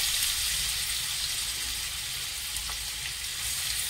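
Onion and green chillies fry over a low flame in a steel kadhai. A steady, fairly quiet hiss and sizzle runs throughout, with one faint clink, and no one talks.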